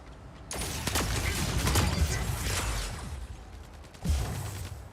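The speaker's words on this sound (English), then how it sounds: "Incoming fire." Incoming fire in the mech combat game Mech Arena: a dense run of sharp mechanical shots and whooshes, fairly steady and moderately loud, easing off midway before a fresh burst near the end.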